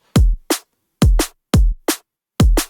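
A punchy liquid drum and bass beat: deep booming kicks alternating with sharp snappy snares in a brisk, syncopated pattern, loud and dry with no voices.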